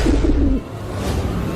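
A pigeon gives a low, soft cooing call at close range, followed by a muffled rustle.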